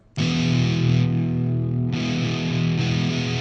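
Electric guitar played through a Boss MT-2 Metal Zone distortion pedal with the distortion knob turned down, sustained heavily saturated chords ringing loud and steady, with a brief softer dip before the chord is struck again.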